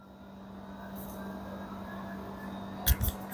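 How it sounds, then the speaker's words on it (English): An LG dryer's blower runs in test mode with a steady motor hum and broad airflow noise, continuous throughout, ending in a couple of brief louder knocks. "Blower already start."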